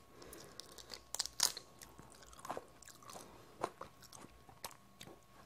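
Someone eating juicy tteokbokki with green chili, quiet close bites, crunches and wet chewing at an uneven pace with no talk.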